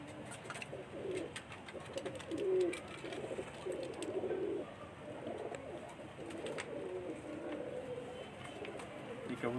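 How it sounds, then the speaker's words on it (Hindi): A female pigeon coos softly in low, repeated throaty phrases, close by, with faint rustling and occasional clicks in the background. "ये कबूतरी का क्लोजर है।"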